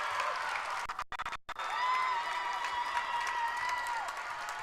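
A crowd at a women's college basketball game between the Longhorns and Mustangs cheers and applauds after a made basket, a swelling roar of clapping and shouts in an arena, briefly cut by two dropouts.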